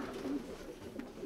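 A pigeon coos softly in a low, repeated pattern, close by and fairly quiet, with no talk over it.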